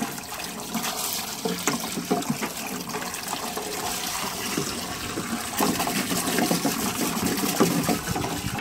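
Water pours and splashes steadily into a quarantine tank, a continuous rushing trickle that swells slightly toward the end, close by, with no voices.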